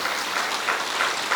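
An indoor audience claps for Asha Didi at a Brahma Kumaris gathering, a steady burst of applause, fairly loud and without talk.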